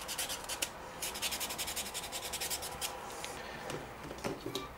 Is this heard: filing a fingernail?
yes